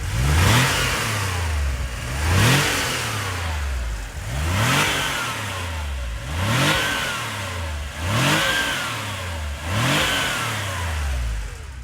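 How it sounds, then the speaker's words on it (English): A 1984 Porsche 911 Carrera Targa's 3.2-litre flat-six exhaust, blipped through six repeated revs that rise and fall every two seconds, loud and close with no talk. "let's take a listen to that exhaust note"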